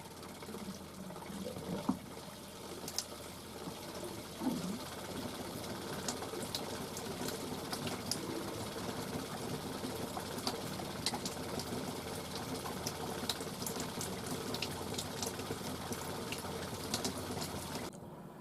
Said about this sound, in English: Water pump on.